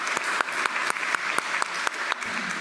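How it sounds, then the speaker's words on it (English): Applause fills a conference session after a presentation, a steady dense clapping with sharp individual claps standing out, moderately loud and sustained throughout with no talk. "should we round of applause for Victoria's presentation here?"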